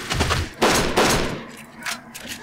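Bursts of gunfire in the Kane & Lynch: Dog Days 2 video game, several loud close volleys in a ragged rhythm with people talking through and between them.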